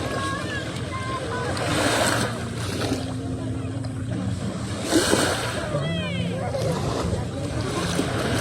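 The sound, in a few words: sea waves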